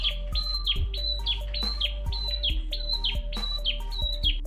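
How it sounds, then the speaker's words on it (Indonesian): A red-headed prinia (perenjak kepala merah), still wild but kept as a cage bird, sings a loud, steady run of repeated high chirping phrases close by, over a constant low hum. "dia bisa gacor layaknya seperti burung perenjak kepala merah yang sudah rawatan lama ya"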